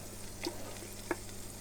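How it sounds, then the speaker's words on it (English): Faint, steady sizzling of oil frying in a Ninja Foodi multicooker pot for paella, with a couple of light ticks and clinks. "Now it's just fairly starting to sizzle"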